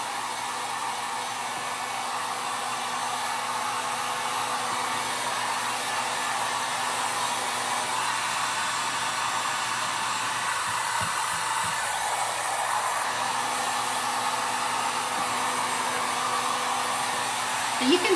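A hair dryer blows steadily and loudly at close range while drying painted decoupage paper, a constant whooshing roar that runs unbroken throughout with no talking.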